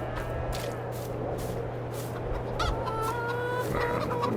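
Chickens cluck intermittently over a steady farmyard hum on the Old Polish Farm in Farming Simulator 22, the clucks fairly clear and close.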